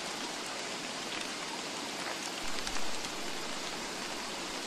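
Heavy rain in a video game falls as a dense, even hiss that continues unbroken throughout, with a brief low thump partway through and no voices.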